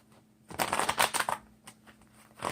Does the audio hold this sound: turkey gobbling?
no